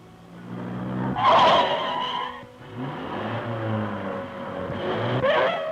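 A car brakes hard and skids during brake testing on a British test track: a loud tyre screech bursts out early, a steady engine drone runs underneath, and a second sharp squeal comes near the end.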